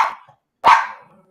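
A dog barks twice up close, a short bark followed after a brief pause by a louder, fuller one, with no talking over it.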